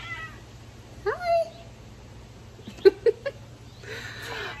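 A house cat meows close by, first one drawn-out call and then a few shorter meows, against a quiet, low background hum.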